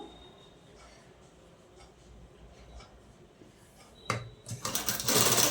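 A sewing machine stitching a dress lining, faint and steady at first with a low mechanical whir, then surging into a loud, fast rattling run near the end.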